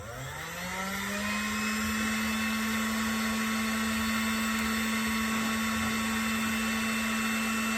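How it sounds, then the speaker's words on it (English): A heat gun used for powder painting lure heads spins up quickly at the start, then holds a loud, steady whine with a constant pitched hum and airy roar. "This heat gun's going to be a little loud."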